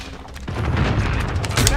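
Grenade explosion in Call of Duty: Modern Warfare, a sudden loud boom followed by crackling debris and gunfire, with voices talking over it.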